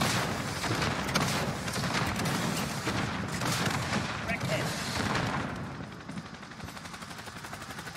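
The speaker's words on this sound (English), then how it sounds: "I'm just using the rockets." A rocket launcher fires during a Call of Duty Modern Warfare match, heard as dense, loud blasts and rattling battle noise that run for most of the stretch and then ease into a quieter rumble.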